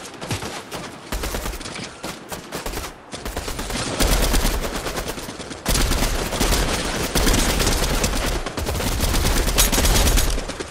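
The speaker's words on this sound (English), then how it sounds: "Dude, people are shooting at you." Rapid bursts of gunfire in the no-build mode of the video game Fortnite, loud and sustained with dense automatic volleys and brief pauses between exchanges.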